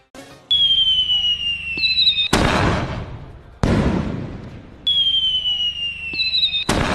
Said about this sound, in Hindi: इस वक्त आतिशबाजी सजा हुआ बिस्कोमान भवन